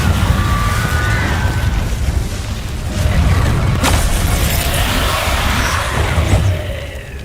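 Game sound effects from casting the Incendio fire spell in Hogwarts Legacy, loud whooshing blasts and booming bursts of flame layered with other combat effects over several seconds.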